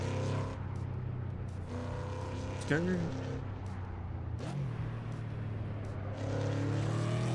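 Ford Mustang engine in a drunk driving video game, a steady low hum running throughout beneath talking, with a couple of brief rising tonal sweeps.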